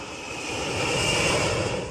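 Su-35 and MiG-31 fighter jets patrol overhead during the Centre 2019 military exercise in Central Asia, a steady, loud roaring engine wash that swells slightly over two seconds, with no voices.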